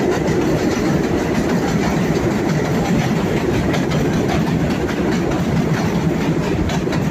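A New York subway train rumbling and clattering along an elevated track overhead at a Brownsville junction, loud and continuous with rhythmic wheel clicks throughout.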